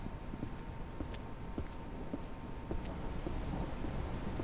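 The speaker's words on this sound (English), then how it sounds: "I find out it's going to rain." Steady rain with wind gusting and faint distant rumbles of thunder, a stormy backdrop inside the ranch simulation game Ranch Simulator, continuous and moderately quiet with no talk.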